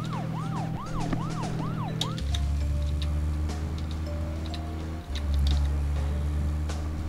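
A wailing police car siren from the video game Deadly Premonition, rising and falling in steady whoops and then holding over a constant low engine drone, loud and close with a brief dip near the end.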